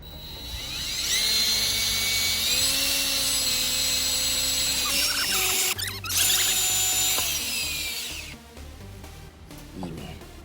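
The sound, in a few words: drilling a hole in a Mazda RX-7 FC manifold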